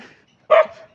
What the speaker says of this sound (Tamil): அவரோட நாய் தான்